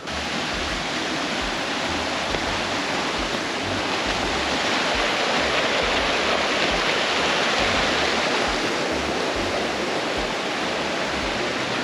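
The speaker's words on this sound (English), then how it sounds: "There's like a river that flows through the town" Steady rushing water fills the whole clip, a broad, constant roar of a river flowing nearby through the town of Boquete, Panama, with no voices.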